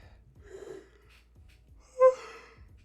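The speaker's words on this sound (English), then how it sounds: "That was a yawn." One soft human yawn, a breathy rise that peaks in a brief voiced note near the end, heard alone and close with no talking.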